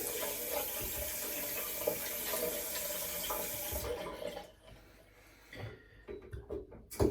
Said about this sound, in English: And then wash the flannel off with cold water.